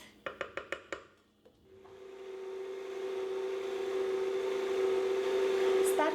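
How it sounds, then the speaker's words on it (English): A stand mixer kneading donut dough starts up after a few sharp clicks and taps, settling into a steady, rising motor whine with a constant tone that continues to the end. "I'm just going to start the mixer, continue on making the dough"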